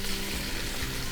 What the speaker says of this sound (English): These cast iron pots, they hold the heat so well. I've taken off the heat. It's still searing beautifully.